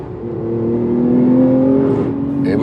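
A Porsche GT2 RS on a flying lap at a race track, its engine holding a loud, steady droning roar close by with a slight rise in pitch, with no talking.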